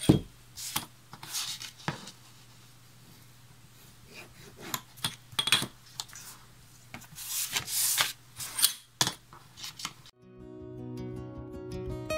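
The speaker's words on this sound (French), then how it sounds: "Je commence donc par marquer les plis de ces 4 rabats." Repeated rubbing and scraping strokes on paper as fold lines are scored on four card flaps for a scrapbook album, irregular bursts at close range, ending with a brief faint tonal tail.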